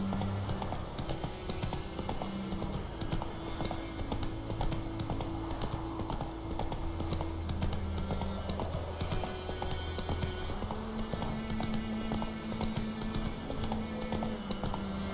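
Roach, Geralt's horse in The Witcher 3: Wild Hunt, gallops with a steady rapid clip-clop of hooves, loud and close throughout, over a low game music bed.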